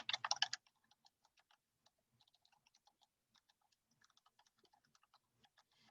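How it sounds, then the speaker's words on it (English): Light, quick keystrokes on a computer keyboard, entering a question into a Zoom poll, follow a brief louder clatter at the start; the soft, irregular clicks stay close and clear against near silence. "You can type in your question."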